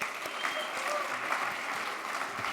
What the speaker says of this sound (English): I want to give a round of applause for all our honorees so far.